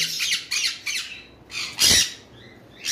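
Cockatiels from a breeding pair squawk in a series of harsh, close calls: several short bursts, then one longer, louder screech, with brief quiet gaps between them.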